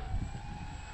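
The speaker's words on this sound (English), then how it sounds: "turn our motor back on" A twin-motor AVIOS King Twin RC model airplane runs its electric motors with a steady, moderately loud whine and buzz, a low rumble swelling briefly near the start.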